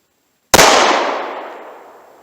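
A single sharp gunshot from a Ruger Security 9 9mm pistol at a shooting range, loud and close, its crack decaying into a long ringing echo after brief silence.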